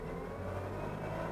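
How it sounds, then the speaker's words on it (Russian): Chery Jaggi car engine idling, its revs sagging as the brake pedal is pressed, a steady low hum close by. "Прижимаю тормоз, обороты падают."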